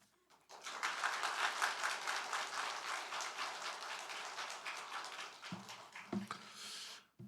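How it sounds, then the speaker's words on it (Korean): Loud, steady applause fills a church hall as the congregation welcomes a pastor, the dense clapping sustained for about six seconds before a few brief voiced sounds and then a fade. "우리 목사님 나오실 때 우리 크게 박수로 맞이하도록 하겠습니다"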